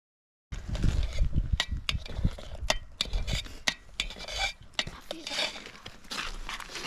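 Pongal made with karupatti palm jaggery and cardamom is stirred in a pot with a spoon, a scraping, clinking rhythm of utensil on metal that runs steadily with a few sharper knocks.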